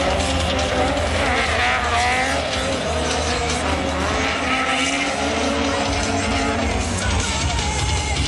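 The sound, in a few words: car drifting at Drift Turbo Paris show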